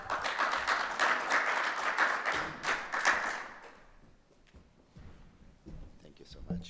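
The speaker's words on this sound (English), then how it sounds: "A big applause for Mr." Audience at a basketball World Cup draw ceremony applauding as the city mayor is invited up, brisk clapping for about three seconds that fades into quiet room noise with scattered thumps and shuffling.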